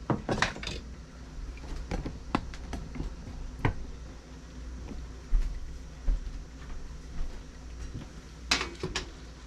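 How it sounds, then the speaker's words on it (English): A wooden spoon stirring grapes in a cooking pot gives scattered close knocks and scrapes against the pot's sides, with soft rustling between the clatters and no voices. "So I will take a wooden spoon and I will stir it one time."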